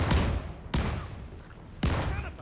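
In Call of Duty: Vanguard Zombies, a gun fires three sharp, loud shots spaced unevenly, each with a booming thud that decays into a reverberant tail before the next.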